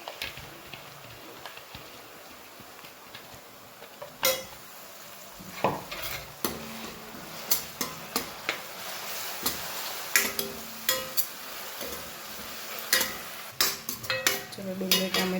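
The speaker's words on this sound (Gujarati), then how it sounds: "ચલો ડુંગળી ટામેટા પણ સોતે થઈ ગયા છે." Onions and tomatoes sautéing in a pan, a spoon stirring with a string of sharp clinks and scrapes over a soft, steady sizzle.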